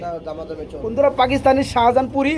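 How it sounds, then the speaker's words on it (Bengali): Pigeons at a wholesale pigeon sale coo nearby in low, throaty, rolling phrases, blending with close, loud talking throughout. "আমরা এখানে দেখতে পাচ্ছি আরেক জোড়া কবুতর"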